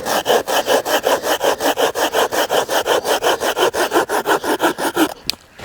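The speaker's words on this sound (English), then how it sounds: "using my axe this time to create a vise, which should see this piece of wood now held in position, allowing me to saw it down." A hand saw cuts through a piece of wood clamped in a makeshift vise made from an axe, outdoors in a bushcraft setting, with steady, rapid back-and-forth strokes heard close and loud, ending abruptly.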